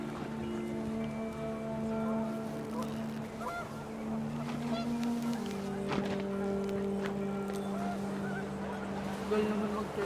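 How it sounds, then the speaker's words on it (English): Panicked geese honk in a windy scene of the video game What Remains of Edith Finch, their calls rising over steady droning tones and gusting wind without a break. "The wind picked up and panicked geese appeared and quickly went."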